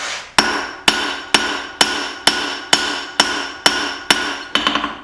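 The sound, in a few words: hammering a steel bolt on the anvil horn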